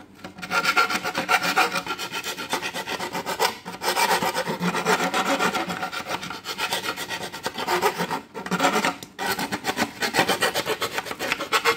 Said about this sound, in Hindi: इसकी सॉकेट को तैयार करने के लिए हम रेती फाइल का यूज़ करेंगे